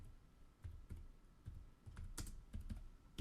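Someone typing a symbol name on a computer keyboard in Adobe Illustrator, a quiet, close run of separate key clicks at an uneven pace, with no talk.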